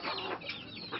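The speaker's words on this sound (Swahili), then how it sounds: "Kuku zinataga humo, zinalalia humo, zinaangua humo" Chickens cluck and squawk together inside a poultry house on a farm in Kerarapon, Kajiado County, a dense, steady chorus of overlapping calls close by with no talk.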